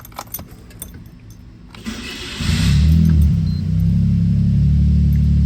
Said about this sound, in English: I'm gonna start the car and let you guys hear how it sounds.